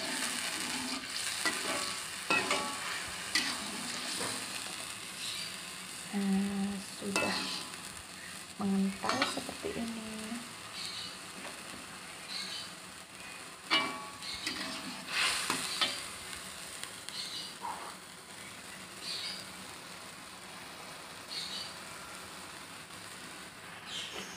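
Tempeh, snakehead fish, anchovies and petai frying in a pan with seasonings while being stirred, a steady quiet sizzle broken by repeated scraping and clinking of the utensil against the pan.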